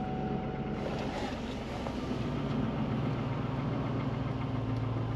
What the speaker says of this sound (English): I think it's a serpentine belt that went away.